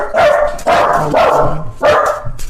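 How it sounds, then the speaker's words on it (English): Household dogs bark close by in three loud bursts of barking and yipping, separated by brief pauses. "Sorry about my dogs."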